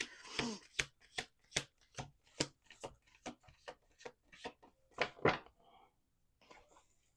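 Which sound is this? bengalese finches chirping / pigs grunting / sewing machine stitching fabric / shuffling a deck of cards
shuffling a deck of cards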